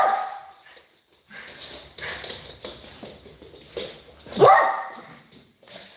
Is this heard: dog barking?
yes